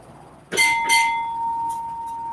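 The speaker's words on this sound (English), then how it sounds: "is anyone else that wants the bell rung" A bell is rung twice on a live stream, two bright close strikes in quick succession, with a clear ringing tone that lingers and slowly fades afterward. No one speaks.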